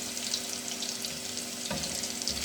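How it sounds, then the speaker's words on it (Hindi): Garlic and cumin seeds frying in oil for a potato dish, giving a steady, close hiss of sizzling that runs evenly throughout with no voices. "लहसुन को जो है हमने ज़ीरा इसमें ऐड कर दिया, थोड़ा सा फ्राई करेंगे"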